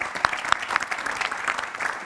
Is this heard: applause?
yes